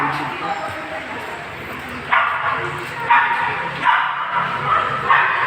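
Pet dogs bark in short bursts at a moderate distance, with several louder yaps standing out over steady background noise and a person speaking nearby.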